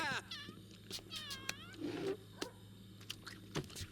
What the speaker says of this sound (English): Wait, the poor cat in the background.